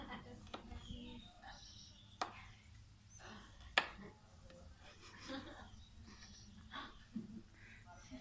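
A kitchen knife chops garlic on a board for a Greek salad, sparse irregular knocks of varying strength spread across quiet room tone, close and fairly soft.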